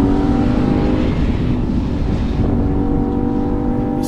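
A Lexus IS500 sports sedan's V8 engine revs loud and close, a steady, throaty roar that holds its pitch without a break.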